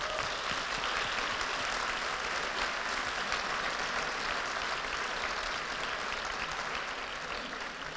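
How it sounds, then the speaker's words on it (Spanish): An audience at a Madrid student tech showcase applauds the students, a sustained, even roar of clapping from a large crowd that tapers slightly toward the end. "Así que este aplauso para vosotros."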